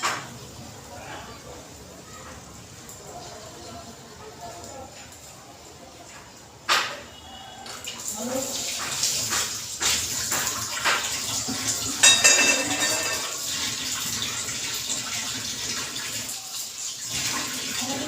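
Hot water poured into a cooking pot while preparing a home-cooked dish, a soft splashing pour that swells midway and continues with bubbling and clinking of the pot.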